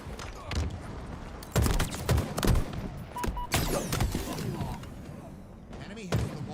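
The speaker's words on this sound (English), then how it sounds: "Goddamn shock rifle." A shock rifle fires in a video game, close and loud, with sharp blasts and zaps scattered through the stretch amid thuds and other game effects, while a person talks over it.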